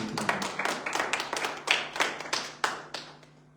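A church congregation claps in a burst of irregular, fairly close hand claps lasting a few seconds and gradually thinning out, with no voices over it.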